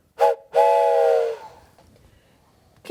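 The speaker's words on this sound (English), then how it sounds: "All I want to do is get on my train there, blow that whistle, and chug away." A short toot followed by a longer, loud steam train whistle blast that fades, then quiet.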